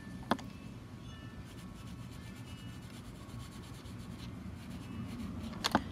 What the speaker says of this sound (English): Make sure you're getting your pencil right up on your inked line